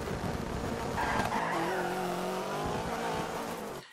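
A rally car drifts in Dirt 3, tyres squealing in a long sliding whine over the engine's drone before the sound drops away at the end.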